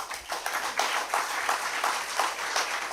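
An audience at a certificate ceremony gives a round of applause as students come forward for plaques, clapping in a dense, continuous wash of hand claps that pulses in loudness.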